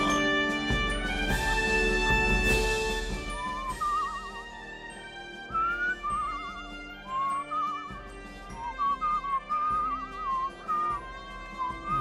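A character in the video game Where the Water Tastes Like Wine whistles short warbling notes in a rhythmic series of bursts, clear above a soft musical background.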